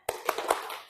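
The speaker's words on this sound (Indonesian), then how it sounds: "1, 2, 3, tepuk semangat." A group performs a rhythmic spirit clap, a short patterned burst of about four evenly spaced clap beats, heard close and moderately loud.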